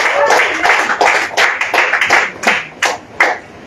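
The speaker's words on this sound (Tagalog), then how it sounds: "Lakasan ng palakpak kay El Shaddai." A church congregation at an El Shaddai worship service claps in a burst of uneven, overlapping hand claps, with a few sharper slaps standing out near the end as the clapping thins.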